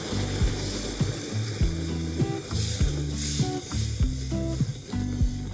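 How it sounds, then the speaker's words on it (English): Heavy cream poured into hot caramel in a pan on the stove sizzles and bubbles as it is stirred, a close, steady frying hiss with repeated knocks and scrapes of the stirring. "we're turning this down to low, and we're going to slowly add our cream in here."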